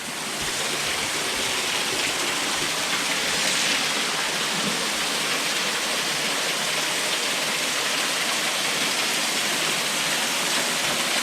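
A steady, full roar of a forest waterfall at Notre-Dame de la Source, Droiteval, in the Vosges, rushing without pause from start to finish, loud and close, with no voices over it.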